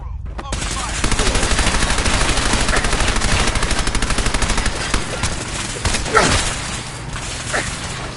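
Rapid automatic gunfire fills a Fallout 4 battle in a loud, dense, rhythmic stream of shots, followed by scattered impacts and whooshing effects.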